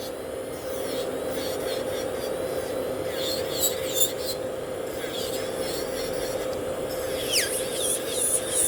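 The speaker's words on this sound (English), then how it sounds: "So when I'm filing the old color off, I'm peeling down the nail folds." An electric nail file grinds old gel color off fingernails during a salon rebalance, with a steady close whir and intermittent scratchy rasping as the bit meets the nail.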